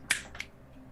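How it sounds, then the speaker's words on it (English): Crisp finger snaps close by during a tabletop role-playing session, a sharp snap followed quickly by a second, softer one, then quiet. "Snaps finger."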